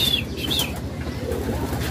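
Racing pigeons flutter into their loft during a morning training return, with soft wingbeats and low cooing around a steady background, plus a couple of brief high chirps near the start.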